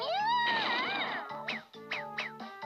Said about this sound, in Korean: 이번에는 어디선가 고양이가 나타났어요